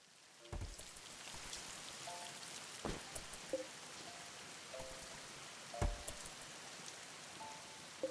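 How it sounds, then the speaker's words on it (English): Rain falling in the video game RimWorld, a soft steady patter of drops with a few louder taps and faint tonal game chimes scattered through, quiet and continuous. "Okay, well, enjoy the rain."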